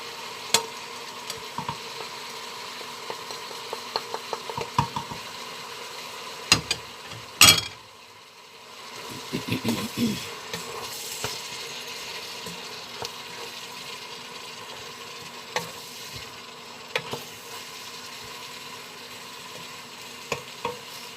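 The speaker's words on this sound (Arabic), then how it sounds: "درت التوابل ديالي وقليتها مزيان" Spices and garlic sauce frying in a pan for a liver tagine, a soft continuous sizzle broken by occasional scrapes and clinks as the mixture is stirred, with no voices.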